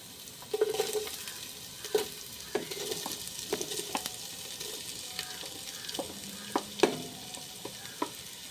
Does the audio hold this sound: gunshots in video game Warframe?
no